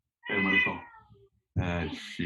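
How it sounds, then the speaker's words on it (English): A house cat meows twice, close and clear, with a short pause between the two calls in an otherwise quiet room. "She's grabbing the cat."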